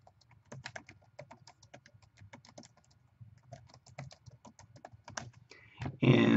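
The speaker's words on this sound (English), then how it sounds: "you can type in your message" Rapid, irregular keystrokes on a computer keyboard while a message is entered, close and fairly quiet, with no talking, ending in a sudden louder burst of noise.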